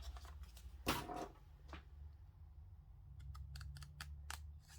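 Quiet, crisp snips of scissors cutting paper into small dotted lines, a sharp cut early then a quick run of short clips near the end, over a soft steady hum.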